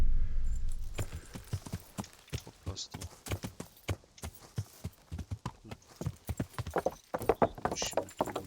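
Rapid, steady hoofbeats of a galloping horse in the video game Kingdom Come: Deliverance pound along, with a few brief spoken words near the start.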